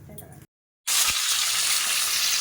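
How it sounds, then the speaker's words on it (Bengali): Fish lightly frying in a pan sizzles loudly and steadily after a short silent gap, following a few moments of faint background sound. "ভাবছি হালকা করে ভেজে রান্না করব মাছটা"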